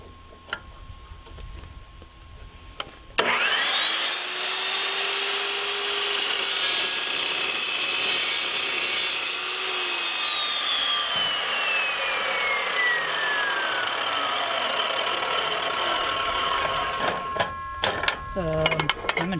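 A new shop saw cuts steadily through material for about sixteen seconds, loud and close, with a rising and falling whine over a grinding rasp before it spins down.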